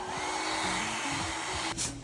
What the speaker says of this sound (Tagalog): Takot din siya sa blower, pero buti nakisama naman na siya.